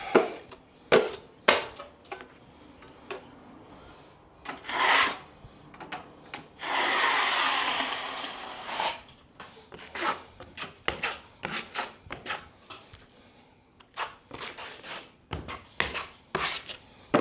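Drywall blade scraping and spreading plaster over ceiling cracks, a run of close rubbing strokes with short bursts and one longer sustained smear, loud and clear with no talking.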